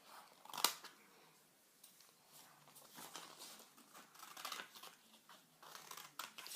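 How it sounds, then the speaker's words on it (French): Scissors cutting paper for a school craft, a sharp snip near the start followed by quieter irregular crisp cuts and paper rustling, close and faint. "Je découpe n'importe comment vu qu'après, on va ajuster."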